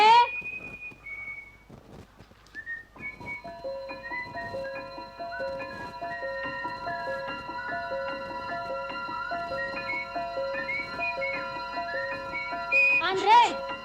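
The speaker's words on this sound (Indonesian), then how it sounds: "Jangan bersiul." A man whistles a tune inside a family home, with clear sustained notes running steadily over a faint background. A voice is briefly heard at the start.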